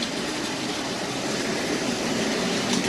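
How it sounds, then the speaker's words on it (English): A Hornby Black 5 OO gauge model locomotive pulls a short rake of wagons along a layout, a steady close mechanical rumble and whir of motor and wheels on track without pause or voices. "he will hesitate a bit as he goes over the points there, the Black 5"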